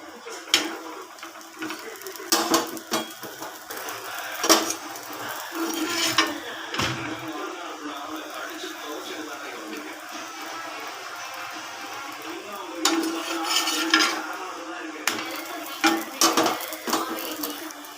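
Palak chapati cooking in ghee on a dosa griddle, with soft sizzling throughout, a few sharp taps and scrapes of a utensil against the hot pan at irregular intervals, and occasional faint voice.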